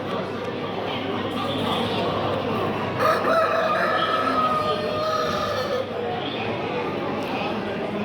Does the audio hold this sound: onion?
no